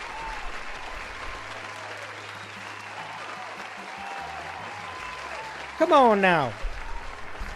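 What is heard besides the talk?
audience applause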